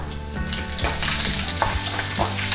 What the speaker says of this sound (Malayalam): നമുക്ക് ആദ്യം കശുവണ്ടി വറുത്തെടുക്കാം